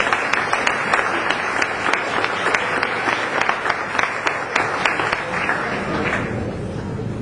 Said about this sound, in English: How about another nice round of applause?